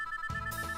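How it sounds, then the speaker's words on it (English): A phone rings with a steady electronic tone, loud and close, with a brief burst of handling noise partway through and no voices. "The sound of a phone ringing cuts John's sentence short"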